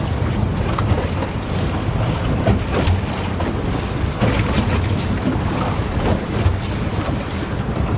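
A Robalo 266 Cayman boat with a Mercury outboard is under way on open water, a steady loud rush of engine, hull and water noise with heavy wind buffeting the microphone throughout.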